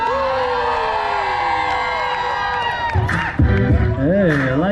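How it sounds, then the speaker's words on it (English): A concert crowd in Dallas, Texas screams and cheers loudly and continuously at a live heritage month performance, with whoops and shouts swelling near the end. "Now somebody, anybody, Dallas, Texas, scream."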